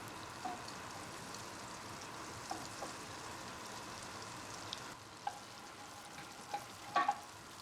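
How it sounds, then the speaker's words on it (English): Butter melting in a hot pan for garlic butter shrimp gives a faint, steady sizzle with a few soft scrapes and taps of a utensil, quiet and continuous, without voices. "Then add 2 tablespoons of butter that we prepared and wait until it melts."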